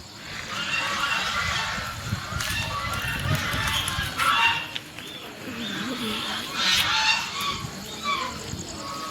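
A large flock of ducks near a village temple with cattle and buffalo tethered nearby keeps up a continuous, loud honking quack chorus, with someone talking over the birds.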